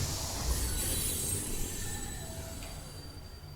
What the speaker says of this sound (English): These trains were never meant to run non-stop like this.